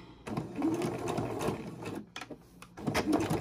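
A sewing machine stitches back and forth on a quilt, its fast mechanical whirring running in bursts with a brief pause midway before resuming, close and steady.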